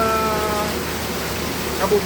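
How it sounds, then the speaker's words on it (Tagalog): Heavy rain falls in a steady, dense hiss during a storm while someone talks over it in the foreground. "baka hindi nyo marinig sa lakas ng patak ng ulan"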